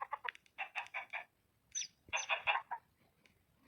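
Chickens cluck on a chicken farm in the video game Minecraft: a few short bursts of clucks and squawks in a quick uneven rhythm, fairly close and moderately loud, with brief silent gaps between them and no talk.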